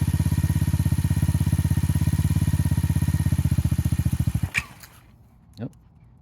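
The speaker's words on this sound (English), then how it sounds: "How far can I go when I'm just idling like this?" A motorcycle engine idles with a fast, even chugging pulse for several seconds, then cuts out abruptly, leaving near silence broken by a couple of faint clicks.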